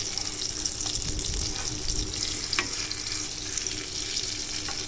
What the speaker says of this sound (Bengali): আমার বেগুন ভাজা প্রায় হয়েই এসছে।